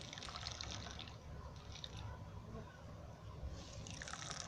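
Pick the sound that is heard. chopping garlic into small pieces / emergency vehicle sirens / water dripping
water dripping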